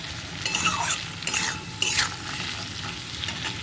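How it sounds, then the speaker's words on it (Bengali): Potatoes with salt and turmeric powder sizzle in a pan while being stirred and scraped, producing repeated utensil scrapes and clinks over a steady frying hiss. "আবার একটু নেড়ে চেড়ে দিলাম"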